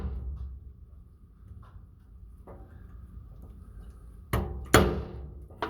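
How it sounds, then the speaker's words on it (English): A metal wrench strikes a spray can, giving a few faint taps and then two loud, sharp metallic knocks in quick succession near the end, with a low background hum and no talk. "I don't have a hammer, so I'm using a wrench."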